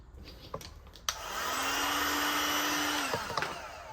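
A heat gun blows steadily for about two seconds while heating vinyl wrap on the front bumper of a Cupra Ateca, a loud, even airflow hiss that starts abruptly after a few handling clicks and cuts off cleanly.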